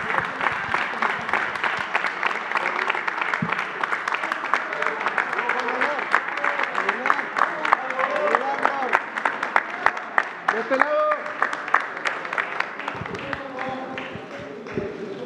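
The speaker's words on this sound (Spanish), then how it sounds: "un aplauso" Applause closing a presidential morning press conference in Mexico, steady crowd clapping with scattered sharp claps and background murmur and voices running throughout.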